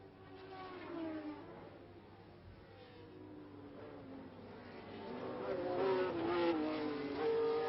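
A 1974 British Grand Prix Formula 1 car passes by, its high-pitched engine whine swelling toward the end, heard faintly as part of a thin, buzzing old broadcast recording.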